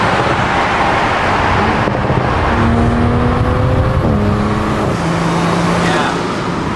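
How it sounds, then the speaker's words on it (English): Toyota Supra with a big turbo sliding around a highway exit ramp: a steady, close engine roar with rising and falling tones as the car accelerates, under road and wind noise. "First time ever driving the Supra, and I slide the whole exit round."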